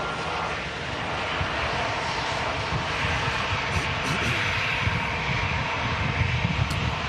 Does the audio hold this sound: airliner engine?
yes